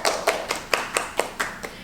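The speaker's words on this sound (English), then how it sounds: "Let's give a round of applause to today's interviewees, Kellen and Lindsay." Interviewees get a short round of applause that sounds like a single pair of hands, about eight crisp, evenly spaced claps, close and fairly soft, with no talking.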